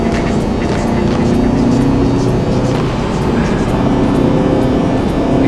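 Volkswagen Mk7.5 Golf GTI Performance driving on a rough, heavily tracked road, its engine and road roar steady and close throughout with no talking.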